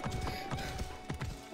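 Rapid clip-clop of horse hooves trotting in Assassin's Creed Origins, a steady rhythmic patter of hoofbeats with a faint tonal hum underneath.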